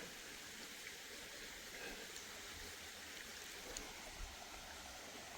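A cold stream runs beside a hiking trail on the Camino Primitivo, making a steady, even rushing of water that is soft and constant throughout.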